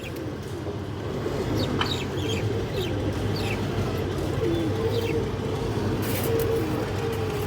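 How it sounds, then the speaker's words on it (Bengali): A large female Bagha pigeon among a flock of domestic pigeons for sale, with steady cooing and fowl clucking close by under continuous crowd noise and talk. "বিগ সাইজের একটা মাদি কবুতর।"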